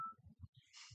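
A mobile phone gives a short ringtone or alert during a county board meeting: a brief tone burst, then a rapid run of low beeps and a bright high chirp, fairly close and alone without talk.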